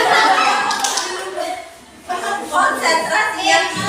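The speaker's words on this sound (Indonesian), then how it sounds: "3, 6, 9 tepuk tangan." Group of people clapping hands in a counting game played in a teacher training session, with uneven bursts of claps mixed with chatter and chuckles from the players, fairly close and lively.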